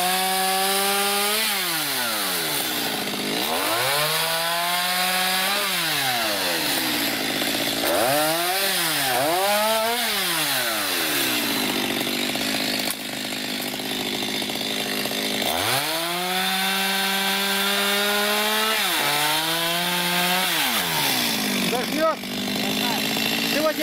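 Wood being sawn inside an old, long-abandoned, ruined and overgrown cowshed: a loud, continuous saw whose pitch repeatedly rises and falls in strokes for the whole stretch, close by.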